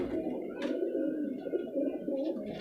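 A Rampuri pigeon, slim-bodied with yellow eyes and large wing feathers, gives soft cooing calls over a low steady background murmur, close by.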